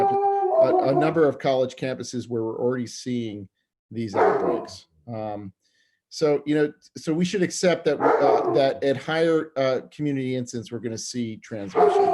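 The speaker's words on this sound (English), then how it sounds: "sorry for my dog in the background there" A dog barks and yips repeatedly in the background of a home while someone speaks steadily during an online school board meeting; the barks sit partly under and between his words.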